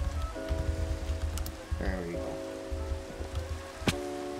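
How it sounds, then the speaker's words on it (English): Steady rain pattering in the Minecraft video game, a soft continuous wash with low ambient hum, overlaid by brief game tones and faint chime-like sounds, no speech over it. "it's sunrise, and it has to be raining at the worst time possible"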